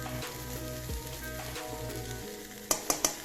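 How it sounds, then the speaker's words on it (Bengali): Oil sizzling under a mixed-vegetable paratha as it fries in a pan: a continuous close crackle and hiss, ending with three quick sharp taps. "এবার এই দিয়ে এক ফোঁটা তেল দেবো,"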